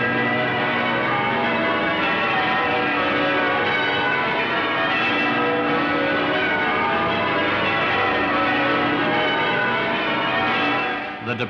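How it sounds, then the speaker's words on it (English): Church bells peal continuously in 1951 London at the departure of royalty from the Festival of Britain opening, with a dense, loud, unbroken wash of ringing through an old, slightly muffled recording. "The departure of their Majesties was signalled by the pealing of bells"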